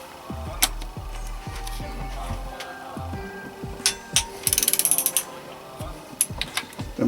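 A ratchet tightens bolts on a Suzuki RF900 engine during a rebuild, with quick bursts of close mechanical clicking, several short runs of ratcheting and a few sharper metallic taps between them.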